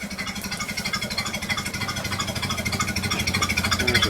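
A 1930 Model A Ford Tudor engine runs at a slow idle, about 350 rpm, with a steady low, loping chug of evenly spaced pulses close to the listener.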